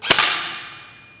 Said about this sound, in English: So I'm going to shoot the target in the middle.